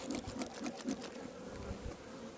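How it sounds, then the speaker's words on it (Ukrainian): Honeybees swarm and buzz around an open hive during spring colony work, a steady close drone layered with faint rhythmic tapping. "Зараз ми трошки підкуримо бджіл, щоб вони нам не заважали."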